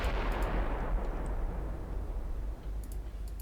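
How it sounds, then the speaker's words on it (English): Heavy Mark 4 15-inch naval guns firing in Ultimate Admiral Dreadnoughts: one deep, booming blast opens the clip and rolls off into a long, low rumble. "Aquila is opening up. Their Mark 4 15-inch guns."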